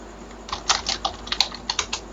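Rapid clicks of a computer keyboard as text is typed into a spreadsheet comment, a short close burst of uneven keystrokes with no voice.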